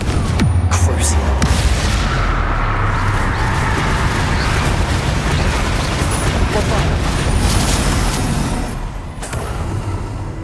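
Confringo fire spell explosions in Hogwarts Legacy combat, loud booming blasts and rumbling bursts piling up over a dense battle din, easing off near the end.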